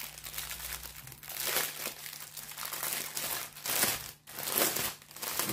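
Crinkly plastic packaging around a set of paint tubes being opened by hand, a close, continuous crackling and rustling that rises and falls in bursts with a brief pause near the end.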